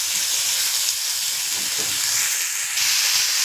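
Tomato and onion frying in hot oil give off a steady, close, bright sizzle with a soft crackle that holds evenly throughout, no voices over it.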